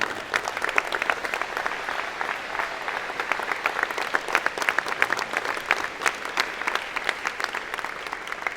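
Sustained applause fills a convocation hall at an engineering and computer science college, a thick, even wash of many people clapping that holds steady throughout with no speech.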